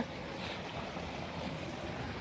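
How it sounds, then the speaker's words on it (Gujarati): Irrigation water pours into a wheat field with a steady, even rushing wash that is fairly faint and carries no voices. "અત્યારે આપણે ઘઉંમાં પાણી વાળવાનું ચાલુ છે આજે"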